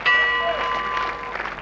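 A bell is struck once to open the first round of a boxing match, a bright ringing tone that fades over about a second amid hall noise.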